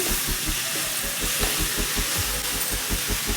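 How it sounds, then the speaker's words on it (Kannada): Two finely chopped medium tomatoes fry in a pan while being cooked down soft, giving a steady broadband hiss and sizzle with a fast rhythmic scraping of a spatula running under it, close and continuous. "ಟೊಮೊಟೊ ಮೆತ್ತಗಾಗೋ ತನಕ ಫ್ರೈ ಮಾಡ್ಕೋಬೇಕು."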